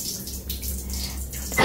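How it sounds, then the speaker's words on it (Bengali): Water is shaken off something soaked and heavy, heard as a brief close splashing and spattering rush that ends in a sharper burst. "এটা জলটা ঝাড়তে হবে।"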